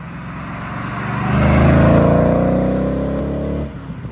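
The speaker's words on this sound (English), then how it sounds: "see how this V8 British sports car drives." Marcos Mantara V8 British sports car driving on the road, its deep engine note swelling loud and close as it accelerates, then easing off with a steady rumble.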